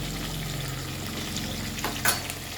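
Large chunks of pork for crispy pork fry in hot oil, a continuous close sizzle and crackle with a brief louder pop near the end.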